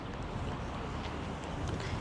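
Wind blows steadily across the microphone outdoors in Korea, a constant low rumbling roar with no voices.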